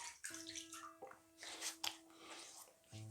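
Water splashing and trickling as a face is rinsed off after a wet shave with a Derby shave stick, close and quiet, with a few gurgles and brief tap-like tones.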